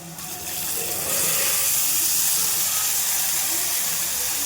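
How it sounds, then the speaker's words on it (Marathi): Dill greens going into a pan of fried onion and green chili set off a loud, steady steam sizzle that swells within the first second and keeps hissing evenly to the end. "आता भाजी घालायची त्याच्यात."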